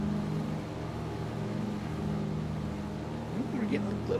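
A hard-pushed aircraft engine in Microsoft Flight Simulator 2024 gives a steady, loud droning hum with tonal harmonics, holding level throughout with a slight rise near the end.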